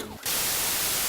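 Harsh white-noise static in an audio drama bursts in abruptly after a brief quieter moment, then hisses loud and broadband without a break.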